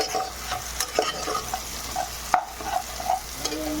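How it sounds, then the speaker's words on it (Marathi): Cabbage, cauliflower and other vegetables sautéed in a pan, with steady scraping stirs and a soft sizzle running underneath, sharper spatula clinks at intervals, close and moderately loud with no talking. "हे सगळं व्यवस्थित परतवून घ्यायचे आहे।"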